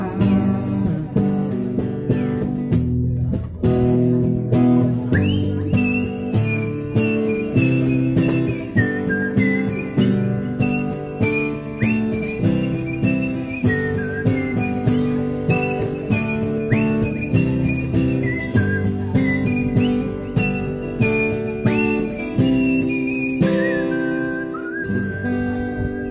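A person whistles a melodic tune, continuous and prominent over about 26 seconds, with a steady instrumental backing and a sliding, wavering whistled line near the front of the mix.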